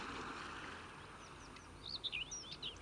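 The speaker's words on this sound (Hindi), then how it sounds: "पंछियों के गीत और चहचहाट भी सुनाई देगी" Birds chirp and sing near a shore with waves washing in the background, a few quick, high warbling calls rising faintly toward the end over the steady wash of water.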